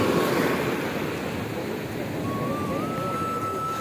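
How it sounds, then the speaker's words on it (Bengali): Sea waves at Old Digha beach roll in with a steady broad wash of surf and wind noise, close and loud, without any clear speech. "তো এত পরিমাণে ঢেউ দিচ্ছে এখানে"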